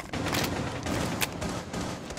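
Rapid gunfire in a shooter video game, a dense continuous burst of overlapping shots with a sharper crack near the middle, loud and close with no voices over it.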